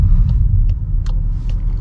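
A VW Golf GTI Clubsport MK8, a two-wheel-drive hatchback, drives along with a heavy, steady low rumble of engine and road noise inside the cabin, plus a few faint ticks and no voices.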